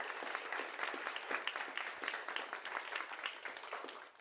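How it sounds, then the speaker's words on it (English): An audience at a panel event on artificial intelligence and the law applauding the panelists, with dense, steady clapping from a sizable crowd that continues throughout. "We get a round of applause for our panelists here."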